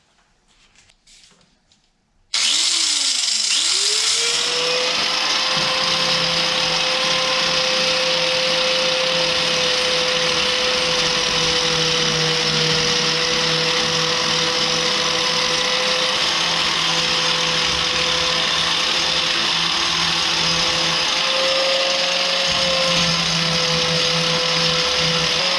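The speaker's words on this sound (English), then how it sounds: "I've switched out to 220 grit polishing wheel with the grinder" A bench grinder fitted with a 220 grit polishing wheel spins up with a rising whine and then runs at a steady, loud, high hum while old axe heads are polished against it.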